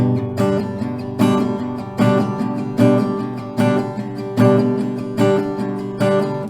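An acoustic guitar is strummed in a steady down-up rhythm, each chord stroke ringing out and fading before the next, with no voices.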